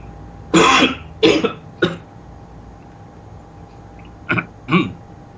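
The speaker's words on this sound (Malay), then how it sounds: "Batuk sudah ni." Several separate coughs and throat clearings from a man hosting a forex trading talk show, two bursts close together, a shorter third, then two more after a pause, close and fairly loud with no talk over them.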